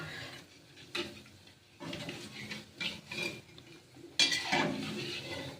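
Utensil scrapes and clinks against a pan as homemade fried potato chips are lifted out, a few short metallic scraping bursts close up with quiet gaps between.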